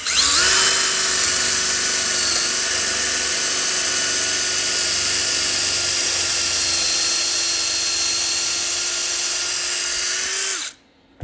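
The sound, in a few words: drill with a broken drill bit boring a hole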